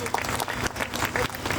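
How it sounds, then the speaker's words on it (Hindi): Hindi-speaking audience at a World Kidney Day hospital event applauds with steady, dense clapping that fills the whole moment, with speech-like sounds mixed in. "तालियां बजाएं।"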